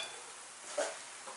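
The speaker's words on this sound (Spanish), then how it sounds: "Ya tenemos el aceite ahí churrimiao, vamos a echar la cebolla y la vamos a sofreír." Chopped onion sautés in hot olive oil for a potato tortilla with prawns, a quiet, steady hiss broken by one brief stir or scrape near the middle, with no voices.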